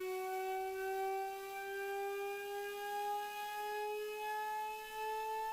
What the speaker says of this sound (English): Here's an example of what Cagnier de la Tour siren sounded like